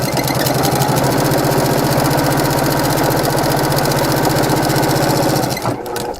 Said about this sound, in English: Quick sewing.